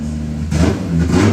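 A turbocharged BMW E46 drift car at a drift practice day in Cyprus, idling and then blipping its engine twice in quick, loud revs that rise sharply and fall back.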